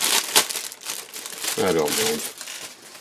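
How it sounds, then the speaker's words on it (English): Paper wrapping crinkles and rustles as a 1/35 Ryefield Pz.Kpfw.IV J tank model kit is unboxed, soft crumpling bursts close by, with someone talking over and between them. "Rustling doesn't bother me."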